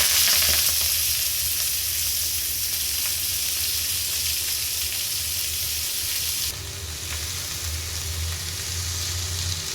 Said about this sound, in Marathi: मेथी चिरून घेतलेला आहे तो टाकूया.